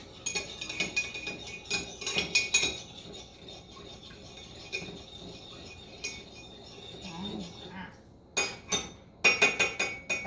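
A mixture is stirred in a container, with clinking, scraping strokes in quick bursts and brief quiet gaps between them, close and fairly light.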